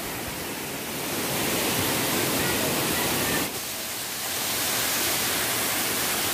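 The Koshmal waterfall in Dang forest, Gujarat, roars with a dense, loud, broadband rush heard up close. It dips briefly midway, then the steady wash returns at full strength.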